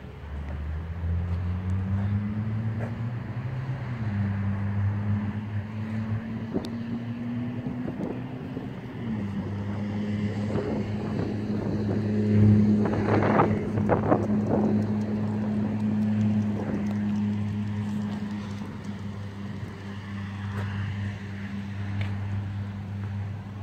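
A 2009 Suzuki Hayabusa with a full Yoshimura exhaust idles with a steady low rumble, revving briefly in the middle before settling back to a deep, continuous exhaust drone.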